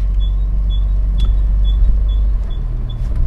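A Jaguar XJ Series 1 drives along with a deep steady engine and road rumble, while a small high-pitched squeak repeats in a regular rhythm about twice a second over it, close and clear with no talking.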